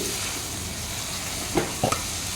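Carrot and moong dal palav mixture fries in a pan, a soft steady sizzle followed near the end by a few brief stirring scrapes, close and quiet.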